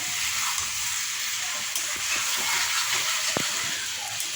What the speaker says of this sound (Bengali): মাংসটা যদি এমনি লো ফ্লেমে কষানো হয় তাহলে রান্নার টেস্টটা বেশি আসে